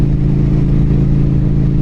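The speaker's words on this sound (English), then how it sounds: "I'm hoping the sound of the exhaust and the engine comes through" A loud, steady 2023 Norton Commando 961 SP motorcycle engine idles close by, its deep exhaust rumble throbbing evenly throughout.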